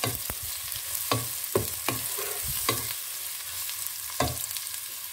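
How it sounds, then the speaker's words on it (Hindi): Steady sizzling of onions frying in a pan until light brown, with occasional soft clinks and scrapes of stirring throughout. "इसको मैं ज़रा सुनहरा कर लूँगी, वाइट नहीं रखूँगी, हल्का सा ये लाइट ब्राउन हो जाएगा ये प्याज"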